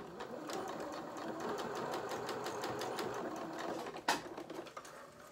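A sewing machine stitches the waistband of small doll culottes, running in a steady rapid whir for several seconds before stopping with a sharp clunk and a few slower stitches.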